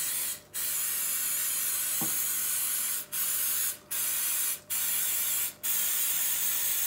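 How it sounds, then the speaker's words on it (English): Cooking spray hissing steadily onto a Bundt pan in long continuous bursts with brief pauses between them, close up, with a faint tap partway through. "you want to spray really good"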